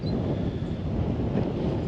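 Gusty wind on the Norfolk Broads in January buffets the microphone with a constant low roar and rumble, loud and unbroken for the whole stretch.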